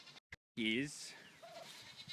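Goats bleating in an apple orchard, one loud close bleat with a wavering pitch followed by fainter animal sounds, with people talking nearby.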